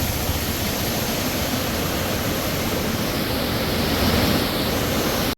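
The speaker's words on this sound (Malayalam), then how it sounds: "ഈ പെരിയാർ കുറച്ചുകൂടെ പരന്നൊഴുകുന്നു" Continuous broad rush of the Periyar River flowing wide in Idukki, steady and full, with no voices over it.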